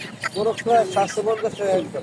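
Desi chickens and roosters at a poultry market cluck and squawk in short bursts, fairly close, with people talking over the birds.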